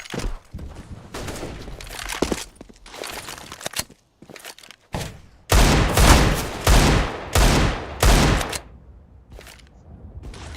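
Flashbang and smoke grenades go off in CS:GO, a series of sharp bursts and hissing blasts in irregular clusters, louder toward the end with short quiet gaps between.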